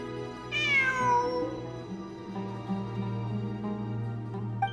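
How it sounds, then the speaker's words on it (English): A cat meows once, clear and fairly close, with a rising-then-falling cry over a steady low background hum and faint game music. "It really is a cat."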